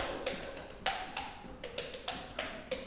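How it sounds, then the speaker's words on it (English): A coffee pot percolating, giving soft irregular bubbling pops and gurgles at a low, steady level, heard close up and alone. "This is the sound of the coffee pot at work."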